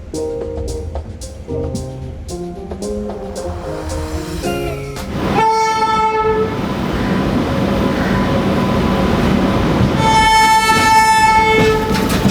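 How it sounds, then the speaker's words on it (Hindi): Suvidha Express 82356 pulls out of Chhatrapati Shivaji Terminus bound for Patna Junction, with steady rumbling wheels and a loud, sustained train horn blaring over the running noise. "हमारी 82356 छत्रपति शिवाजी टर्मिनस से लेकर के पटना जंक्शन तक जाने वाली सुविधा एक्सप्रेस चल पड़ी है"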